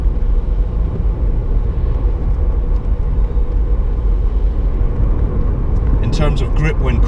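A Lexus IS250 driving on a rough, broken road gives a steady low rumble of tyres and suspension inside the cabin, with a brief faint squeak-like sound near the end.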